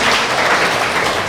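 A church revival congregation at a police headquarters gathering erupts in loud, sustained applause and cheering, a dense wash of clapping hands filling the space close and continuous without pause.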